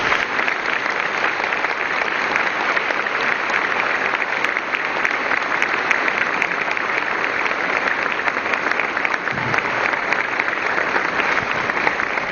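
A church congregation applauds steadily to welcome a sister at an evening service, a dense, even wash of clapping that holds for about twelve seconds with no talk over it.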